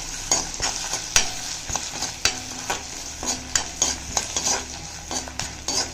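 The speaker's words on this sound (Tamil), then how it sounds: "வெந்தயம் ஒரு பிஞ்சு, இந்த அளவுக்கு போதும் வெந்தயம். இதை போட்டு நம்ம வறுத்துக்கலாம்." Urad dal, dried red chillies and fenugreek seeds stir-roasted in a pan: a soft sizzle broken by repeated sharp scrapes and clinks of a ladle against the metal, in an irregular rhythm, with no talking.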